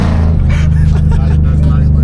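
A nitrous-fed Ford Mustang's engine runs loud and close, a heavy low rumble with a lumpy, pulsing idle that holds steady throughout, with a voice faintly underneath.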